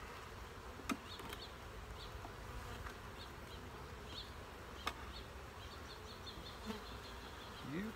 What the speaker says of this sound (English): You guys getting to be a strong little hive, aren't you?